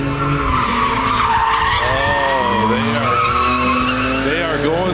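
Cars skid with loud, wavering tire squeals through a tire-barrier course on the Dodge Thrill Ride at the Indiana State Fairgrounds, Indianapolis. The squeal is continuous for the whole stretch, with engine roar and crowd or announcer noise underneath.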